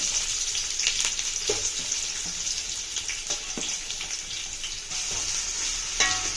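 Three onions fry in a pan with star anise and marathi moggu for shrimp biryani, a continuous close crackling sizzle with occasional stirring scrapes and clinks, no voices.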